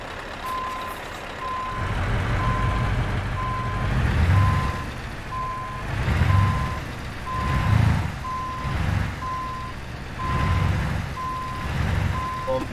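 A truck reversing in Euro Truck Simulator 2 gives steady, evenly spaced electronic warning beeps over a low diesel engine rumble that swells and fades, heard close and continuous throughout.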